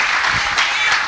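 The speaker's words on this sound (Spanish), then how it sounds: "Le vamos a regalar una ofrenda de palmas al Dios de la gloria." A church congregation claps together in a steady, dense burst of applause, loud and close, lasting about a second with no other sound.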